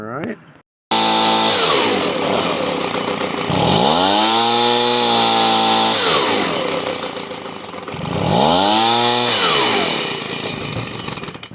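A Stihl BG 55 leaf blower's small two-stroke engine, just repaired at the carburetor, runs loud and close, idling low and rising twice into longer revving surges before settling back down.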